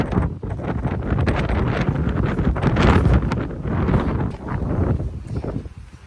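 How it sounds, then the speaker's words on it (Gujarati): Strong gusts of wind roar and buffet the microphone outdoors in the UK during a walk, a loud continuous rush that swells and eases over several seconds. "એટલો બધો પવન છે કે હું પાછી પડું છું."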